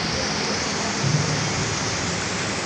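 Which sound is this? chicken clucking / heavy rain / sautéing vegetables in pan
heavy rain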